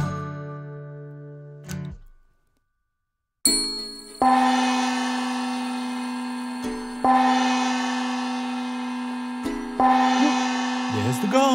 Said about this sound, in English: There's the gong.